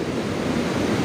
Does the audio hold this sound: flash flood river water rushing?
yes